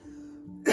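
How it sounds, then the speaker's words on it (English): A single short cough bursts out at the very end of a quiet breathing pause during a yoga and qigong class, brief and close. "And then take a little cough to get rid of all the bad stuff."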